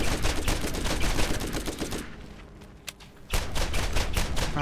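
Combat rifle fire in the PC game Borderlands, loud rapid bursts of shots that stop briefly for about a second and then resume, with no talking.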